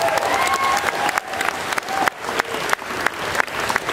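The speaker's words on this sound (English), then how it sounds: "Give her a round of applause" An audience at RuneFest 2011 applauds in a sustained round of clapping, fairly loud and continuous, with a few sharper individual claps and a bit of crowd noise mixed in.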